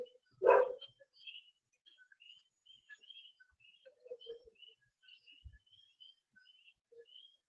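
A pet dog lets out a single sharp bark near the start, then only faint birdsong chirps carry on in the background.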